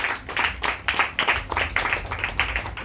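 A church congregation claps and cheers in worship of Jesus, a dense, continuous burst of rhythmic applause with voices mixed in, loud and close throughout.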